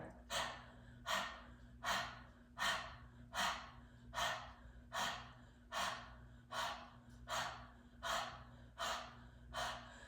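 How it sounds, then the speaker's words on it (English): Deep, forceful yoga breathing, with about a dozen rhythmic exhales puffed out at a steady pace roughly every second, close and clear over a faint steady hum. "place your hand on your belly to feel that exhale each time"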